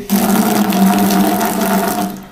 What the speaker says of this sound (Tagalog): Then, available na outlet, gripo. Ayan, malakas talagang tubig dito.